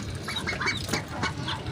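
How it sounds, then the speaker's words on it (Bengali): A duck quacks several times in quick nasal bursts, close and moderately loud, over a faint background hum. "হাঁস"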